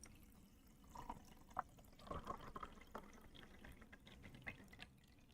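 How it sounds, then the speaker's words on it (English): A beverage pours into a glass, heard as faint, close trickling and a few soft splashing drips at low volume in a quiet room. "It gives me time to pour this beverage."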